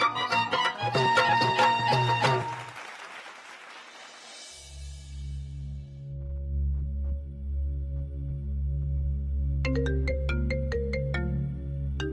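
A mobile phone ringtone plays as a melodic electronic tune, loud and near, with a bright phrase at the start and again near the end over a low sustained backing.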